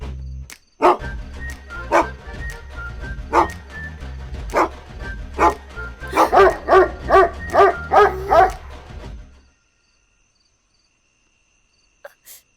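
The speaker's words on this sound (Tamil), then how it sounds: "நாய்கிட்ட வந்து இப்படி மாட்டிக்க முடியும்?" A dog barks repeatedly at night, sharp close barks spaced out at first and then coming in a rapid, loud burst before falling silent, with one faint bark at the very end.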